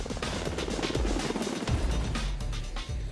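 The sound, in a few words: MH-60T Jayhawk helicopter flying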